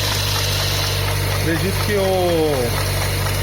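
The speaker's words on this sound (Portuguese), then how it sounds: "Acompanha esse Corsa aí que tava um barulho cabuloso aí no motor." A Chevrolet Corsa engine with a strange noise idles in a steady, loud, low-pitched drone with a constant hum, while someone speaks briefly over it.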